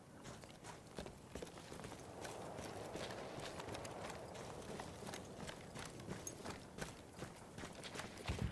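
Horse hooves clip-clopping steadily in the Battlefield 1 video game, a continuous run of close hoof beats over dense battlefield noise with occasional sharp sounds.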